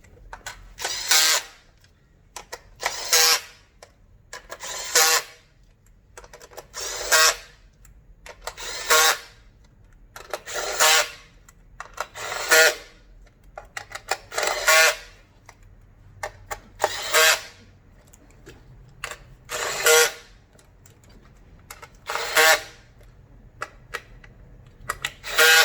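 A ratchet wrench works 10 mm bolts off the ignition coils of a 2002 BMW 325i with M54 engine, giving about a dozen close, crisp bursts of rapid clicking separated by short pauses.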